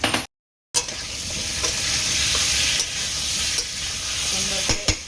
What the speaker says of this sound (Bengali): সুন্দর করে লাল লাল করে ভাজা হয়ে গেছে